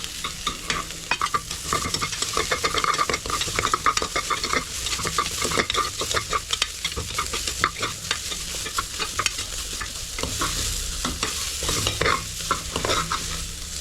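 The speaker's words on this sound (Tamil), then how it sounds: "நம்ம கட் பண்ணி வச்சுருக்கிற வெங்காயத்தை உள்ளே போட்டுருவேன்" Chopped onions sautéing with cumin, pepper, ginger and garlic for river crab soup, a dense continuous sizzle with constant close stirring scrapes and clicks throughout, no voices.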